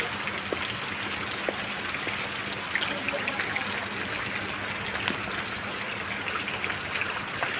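Rainwater pours steadily through a flooded peanut field during live rainfall, making a continuous broad rushing wash with scattered drips and splashes.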